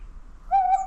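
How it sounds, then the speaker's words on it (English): A single owl-hoot sound effect comes in after a brief near-silence: one clear, sustained tonal hoot, fairly loud and close, heard on its own. "The wise old noodle owl is back."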